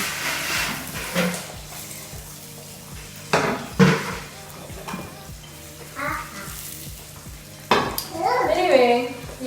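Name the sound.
egg frying in a pan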